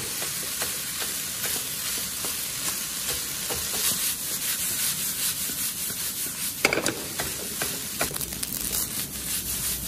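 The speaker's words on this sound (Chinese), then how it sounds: "一定要给它炒散炒香。" Seaweed fried rice being stir-fried in a wok over high heat with salt, soy sauce and pepper, giving a steady sizzle and scraping rub of the spatula, with a few louder tosses near the end and no talking.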